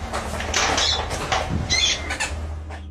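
Bursts of fluttering wing flaps and rustling, with a few faint squawks, as birds take off nearby.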